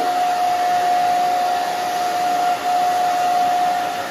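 A hair dryer blows hard and close while drying the back of a short haircut, a loud steady whooshing roar with a constant motor whine, briefly dipping once as the airflow shifts.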